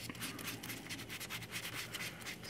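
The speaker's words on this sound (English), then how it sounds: "sanding, which will get kind of any minor surface imperfections out." Light sanding on a 1/6-scale vinyl figure kit to smooth minor surface imperfections, heard as soft, quiet, repeated rubbing strokes in a steady back-and-forth rhythm.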